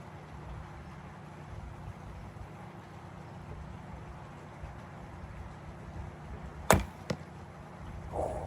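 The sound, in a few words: broadhead arrow shot from a Timberghost TGX Supercurve trad bow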